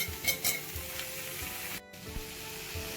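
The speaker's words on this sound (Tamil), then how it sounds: "இதில் இப்போ கட் பண்ணி வச்சுருக்க கத்திரிக்காய் போட்டுக்கலாம்." Chopped brinjal hits a hot pan and sizzles steadily, a close, continuous frying hiss with a few stirring clatters, briefly cutting out for a moment before resuming.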